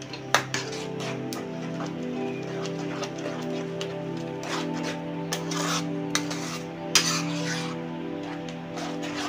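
A spoon stirs clove and cardamom powder through a raw mango and sugar mixture, making repeated rasping scrapes and occasional sharp knocks against the pot over a continuous low hum of the stove or kitchen, with no talking.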